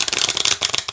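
A pocket-size tarot deck is shuffled by hand in a rapid riffle of crisp, dense card flutters, close and loud, with no one talking.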